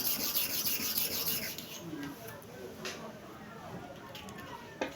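A cordless clipper blade being sharpened by hand, rubbed to and fro in a steady scraping rhythm, close up, with a faint high whine in the background.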